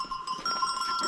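Sheep from a mountain-farm flock bleat in a short, wavering call up close, with a steady ringing tone running underneath.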